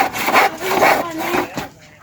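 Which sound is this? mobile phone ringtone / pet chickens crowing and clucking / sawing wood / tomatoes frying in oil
sawing wood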